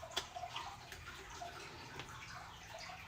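Filtered water, about 10 to 11 grams, is poured onto a sourdough starter in a quiet kitchen. It makes a faint, brief trickle and splash, with small ticks and drips under soft room noise, and no voice is heard.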